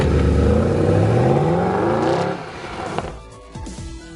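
A Mercedes SLS AMG GT revving hard, its loud close engine note climbing in pitch before dropping off into a crackling idle with a brief blip near the end.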